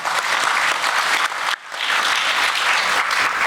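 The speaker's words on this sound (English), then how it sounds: "And another round of applause," Loud, steady audience applause at a tenth-anniversary gala for Nova Ukraine, a dense wall of clapping with a brief dip before resuming at full strength.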